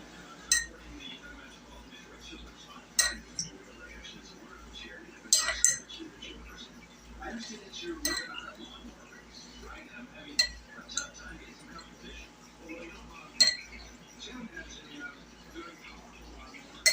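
Bread and butter pickles being served onto a dinner plate, with light clinks and taps of a utensil on dishware scattered through a quiet kitchen and soft background voices.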